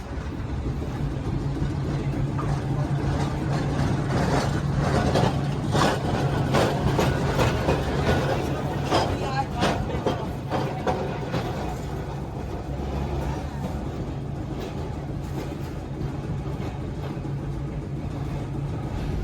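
A heritage tram runs along its track in New South Wales, giving a loud, steady rumble with scattered clicks and rattles that hold for the whole stretch, with no talking.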